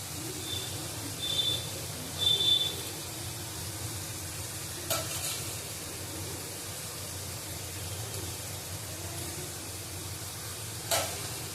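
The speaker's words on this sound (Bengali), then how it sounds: "বেশি করে লঙ্কা দিয়ে দিলাম। ভালো করে কষিয়ে নেবো।" Chopped green chilies sizzle steadily in a hot pan, a soft continuous frying hiss with a few brief scrapes of stirring, fairly quiet and without talk.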